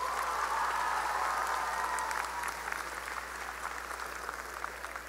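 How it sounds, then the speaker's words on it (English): A crowd at a high school graduation ceremony applauds steadily, with dense clapping that holds level and then begins to thin slightly toward the end. "Graduates, please give your family a deserving round of applause."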